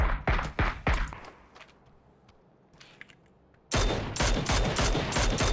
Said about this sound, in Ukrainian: М24 у нас десь на сцені стріляло ще.